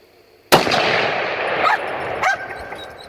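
A single loud rifle shot from a Ruger .300 Win Mag with a Shepherd scope at target practice, a sharp blast followed by a long rolling echo and a second fainter report-like echo, with no talking.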